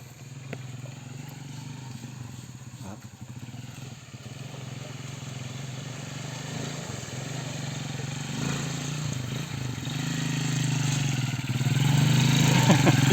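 A motorcycle engine runs steadily throughout on a mountain road to Sitio Kituba, low and droning, growing louder toward the end as it revs up.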